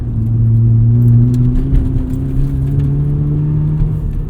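A 1990 FC Mazda RX-7 with a two-rotor rotary engine and a few bolt-ons, heard from inside while driving: a loud, steady engine drone with sustained tones that shift slightly in pitch under gentle acceleration.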